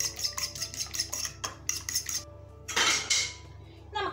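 Vegetable cutlet mixture with pepper powder being mixed in a bowl, a metal spoon knocking and scraping in rapid rhythmic clinks, then a brief louder rustling scrape near the end, close and clear.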